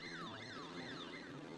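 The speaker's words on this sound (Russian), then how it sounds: "Давайте громкоговорителем сирену сейчас включим" Wailing loudspeaker siren in a video game, a steady rising-and-falling electronic tone sounding alone and fairly loud throughout, with a low background hum beneath.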